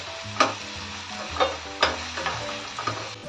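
Vegetables such as peas and carrots sautéing with spices in a pan for masala oats, a steady sizzle punctuated by several sharp spoon clinks and scrapes against the pan, no talk.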